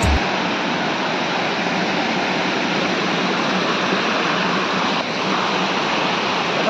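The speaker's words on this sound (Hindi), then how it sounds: "तो भाई देख ये साबनी वाटरफॉल" Srabani waterfall in a Nayagarh forest pours with a dense, constant roar of falling water, loud and unbroken throughout.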